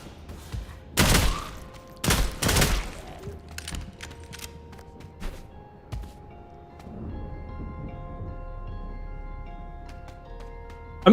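Gunfire from a weapon in the PC extraction shooter Sulfur: a few loud, close bursts near the start, then scattered quieter thuds and shots over a low ambient game background, with no speech.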